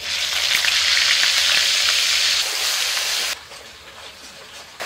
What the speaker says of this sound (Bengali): ফোড়নটা হয়ে গেছে, দিয়ে দিচ্ছি পেঁয়াজ বাটা